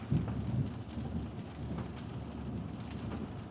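Steady rain and road spray wash over a car driving a brand-new highway during a summer thunderstorm, a dense, even hiss that holds at the same level from start to finish with no voices.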